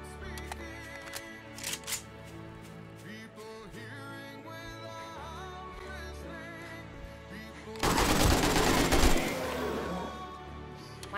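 SMG gunfire during a horde night in the video game 7 Days to Die, bursts of rapid shots over layered game sound and music, with a dense loud stretch of sustained firing late on.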